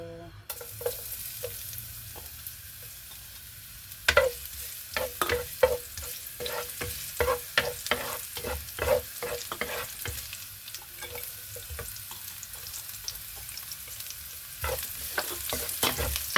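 Mung beans for ginisang monggo are sautéed in a pan, with a soft background sizzle broken by repeated sharp scrapes and clinks as a utensil stirs against the pan.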